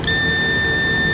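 A multimeter continuity tester gives one steady high electronic beep while probing a laptop MOSFET for a short, close and continuous without a break.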